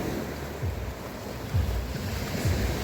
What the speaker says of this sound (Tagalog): Yan na yung dagat. Mas kalmado ang alon.